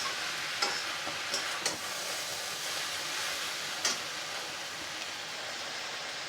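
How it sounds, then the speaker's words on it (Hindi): Cut pieces of leftover roti are tossed and stirred in a frying pan over a constant sizzle, with scattered spatula scrapes and taps ringing out close by; no one speaks. "अब हमने जो रोटियों को कट कर कर रखा था उनको डाल देंगे और इस तरह से इन सभी चीज़ों को हम मिक्स कर देंगे।"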